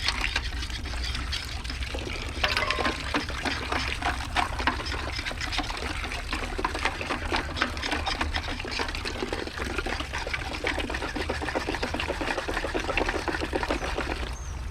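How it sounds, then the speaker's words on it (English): Rainwater pours and trickles steadily into a container, a continuous splashing stream running for the whole stretch. "we're going to add our rainwater"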